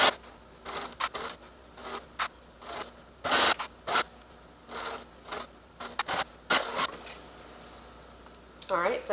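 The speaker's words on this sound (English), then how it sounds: "we're going to go ahead and sew this on at a 1/4 inch seam allowance all along the edge" A sewing machine runs in short bursts, stitching along a shoulder bag's edge at a quarter-inch seam, its close whirring spurts separated by pauses and light handling noises.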